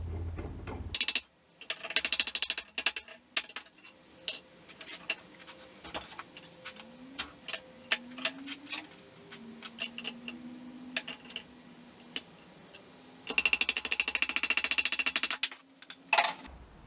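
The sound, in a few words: tapping metal around a socket to bend it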